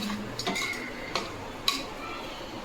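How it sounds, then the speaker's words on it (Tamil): Spoon stirring and scraping in a metal pan while chicken curry sautés with tomato and onion, irregular clinks and scrapes over a low steady sizzle, close by. "நல்லா வதக்கலாம்."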